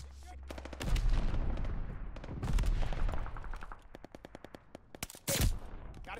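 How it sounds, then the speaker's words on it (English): Heavy gunfire in Call of Duty: Vanguard, loud sustained automatic bursts with deep rumbling impacts, then a quick string of close single shots and a final blast, with some background game voices. "Fire is still heavy."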